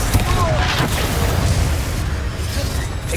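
Confringo fire spell explosions in Hogwarts Legacy, heavy rumbling booms and crackling bursts filling the clip, loud and dense, with a voice shouting over them.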